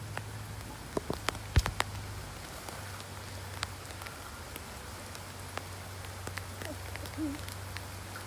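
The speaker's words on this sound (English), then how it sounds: "Crazy video, but lovely rain." Light rain patters steadily with a soft background hiss, broken by scattered sharper drips and drops landing at irregular moments; fairly faint, with no one talking.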